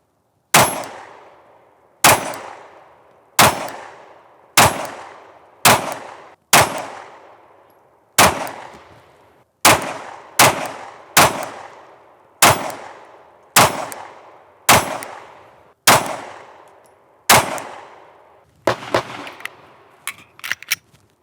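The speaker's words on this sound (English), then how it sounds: "Shooting at some steel about 10 yards out." A Glock 43X pistol firing at steel targets about ten yards away at an outdoor range: around fifteen loud, sharp shots spaced one to two seconds apart, each with a ringing clang, followed by a faster cluster of shots at the end.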